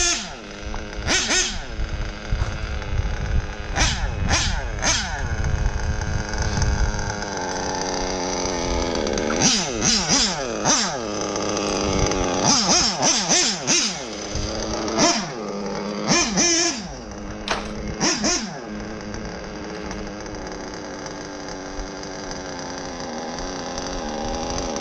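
The modded Novarossi nitro engine of an 8IGHT X Elite RC car buzzes at a rough, low idle, broken by several sharp, loud revving blips.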